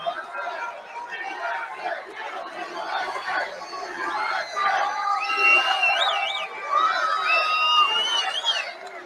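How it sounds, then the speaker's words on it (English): A big crowd at a presidential campaign rally in Swanton, Ohio cheers, shouts and chatters continuously, with whistles and a swelling roar partway through. "This is a big crowd."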